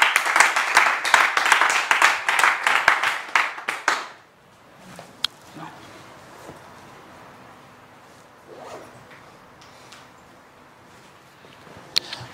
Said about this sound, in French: On acclame le Seigneur Jésus-Christ pour ça.